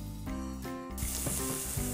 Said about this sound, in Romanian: Nu o prăjim mult, doar puțin până devine transparentă